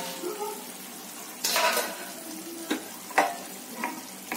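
A metal lid is lifted off a cooking pot of vegetables steaming for Tirunelveli sodhi kulambu, giving a brief clatter, followed by a few sharp metallic clinks and taps against the pot amid a low kitchen hiss.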